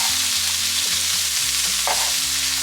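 Peppers fry loudly in a pan holding leftover sausage juices, a dense continuous sizzle that stays close and even throughout, alone without any talking.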